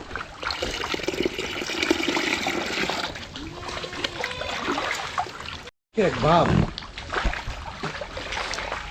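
Water splashes and trickles into a fish tank holding a large stock of fish, a steady gurgling pour with a short break partway through and a voice briefly heard afterward.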